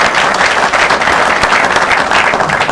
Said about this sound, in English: You can give him a round of applause, too.